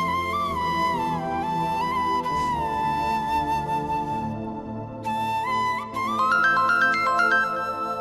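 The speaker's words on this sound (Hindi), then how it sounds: "देखो कहीं ताबीर का फोन ना हो" A phone rings indoors with a melodic electronic ringtone, a steady sustained tune that repeats and brightens toward the end, with no voices over it.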